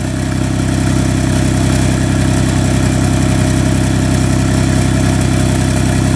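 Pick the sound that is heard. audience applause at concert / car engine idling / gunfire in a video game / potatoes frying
car engine idling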